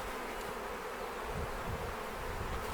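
Honeybees buzz steadily at an open hive being split, a dense continuous hum of many insects close by, with no talking.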